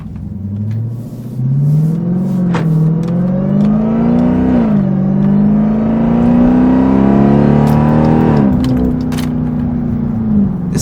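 A Dodge Durango SRT Hellcat in sport mode accelerates hard, and its supercharged engine rises in pitch through one long pull. There is a brief shift dip early on, and the deep roar stays loud and close throughout.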